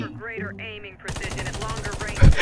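Rapid automatic gunfire in the online shooter Warface, a fast, even stream of close, loud shots that starts abruptly after a few seconds of talk and ends with a heavier blast.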